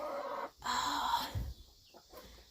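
A broody Australorp hen gives a close, harsh run of clucks and a drawn-out protesting cry, with quieter grumbling clucks trailing off.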